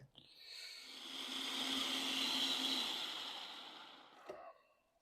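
A kitchen blender whirs through onions, garlic and ginger with the skins left on, a steady whine that swells for about four seconds and then cuts out with a brief clunk, near and alone.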